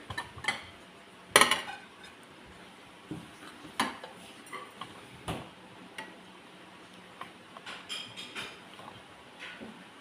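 Grated beetroot is moved into a pressure cooker with scattered metallic clinks, scrapes and taps of utensils against pots at close range, sharp irregular hits over a quiet background.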